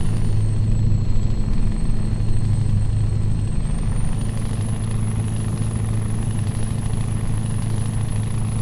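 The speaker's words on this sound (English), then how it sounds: "Listen to the engine on this truck. This E9 engine is just awesome." A Mack Titan Superliner diesel truck engine with an E9 engine in Euro Truck Simulator 2 drones steadily at a low, throaty idle, with a faint high whine above it and no voices.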